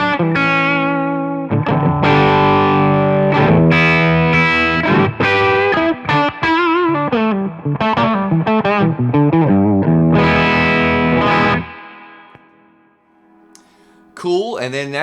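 A heavily distorted electric guitar plays a sustained lead line with bends and fast runs, loud and saturated, then cuts off near the end.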